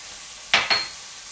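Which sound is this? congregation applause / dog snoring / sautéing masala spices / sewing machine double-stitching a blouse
sautéing masala spices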